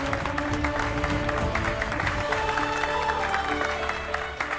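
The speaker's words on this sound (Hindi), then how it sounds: "सब बच्चे ताली बजाएंगे। बजाओ ताली।" Schoolchildren clap together in a Hindi TV drama scene: steady, dense clapping under sustained background music, with a little talk mixed in.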